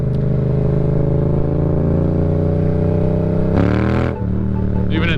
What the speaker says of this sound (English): I would say this bike is running amazing.